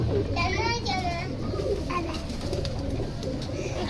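Pigeons kept as pets in a special coop coo softly in low, throaty bursts near the microphone while someone talks over them.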